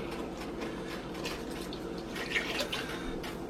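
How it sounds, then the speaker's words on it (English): Cream and milk pour into a pot in the kitchen, making a soft, continuous liquid trickle and splash at moderate distance. "pour the cream in"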